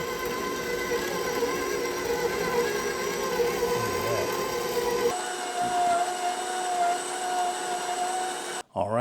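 A KitchenAid grain mill attachment grinds Azure Standard wheat with a steady, loud whirring drone that shifts pitch partway through and cuts off sharply near the end.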